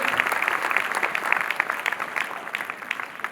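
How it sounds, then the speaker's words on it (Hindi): Enthusiastic applause from an indoor audience welcoming guests onto the stage at a student performance event, dense steady clapping sustained throughout with no talk. "एक बार जोरदार तालियां स्टेज गेस्ट के लिए जरूर होनी चाहिए"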